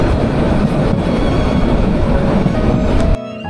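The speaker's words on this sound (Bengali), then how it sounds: "ট্রেনটি এখন কুমিল্লা। সারা রাত জার্নি করে সে ক্লান্ত হয় না," A train runs along the tracks near Laksam station with a steady, loud, continuous rumble and rolling wheel noise, with a faint high tone above it. The noise drops away sharply near the end.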